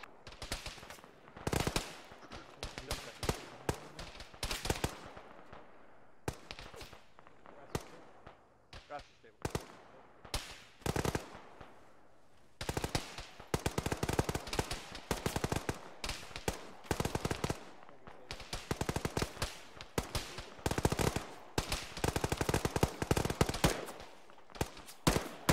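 Bursts of automatic and single-shot gunfire ring out in a ShackTac military simulation game, with rapid rattling volleys and scattered shots, near and distant, continuing throughout alongside intermittent radio-style talk.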